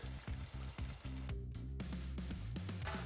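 Coconut milk hits a hot pan for butter paneer and sizzles steadily, a close, constant frying hiss with faint stirring under a low background hum and no speech.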